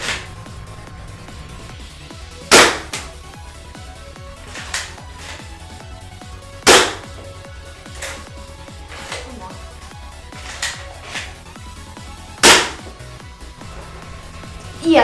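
A 3D printed compact Nerf sniper blaster fires darts in sharp single shots, four loud cracks spaced a few seconds apart over a low background rumble.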